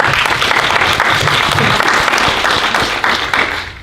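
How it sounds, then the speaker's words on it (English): Film festival audience applauds an honored artist, a loud, dense wash of clapping sustained for a few seconds before thinning out. "let's clap it up for Kasim"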